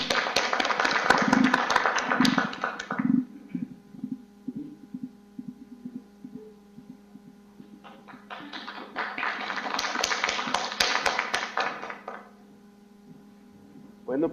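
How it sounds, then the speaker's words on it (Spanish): Audience applause for a presenter at a seminar, two separate bursts of close, dense clapping with a quieter gap between them, over a low steady hum. "un aplauso para nuestra expositora"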